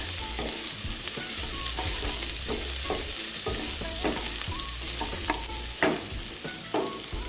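Potatoes frying in a pan with no spices added yet, a steady sizzle with repeated scraping stir strokes, close and fairly loud.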